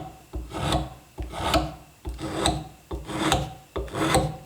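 Tiny drawknife shaving wood, used bevel down almost like a scraper, making five rhythmic rasping strokes close up, each a rough scraping swell followed by a short pause.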